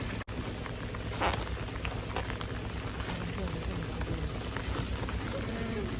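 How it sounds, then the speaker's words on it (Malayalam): Rain falls as a steady, even hiss that carries through the whole stretch without a break, close and fairly loud. "മഴ തുടങ്ങിയത്"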